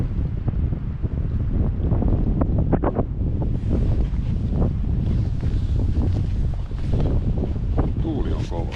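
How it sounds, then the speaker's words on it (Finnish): Strong wind gusts blast across the microphone outdoors, a constant heavy low rumble lasting throughout, with brief voices and movement sounds under it. "Tuuli on kova."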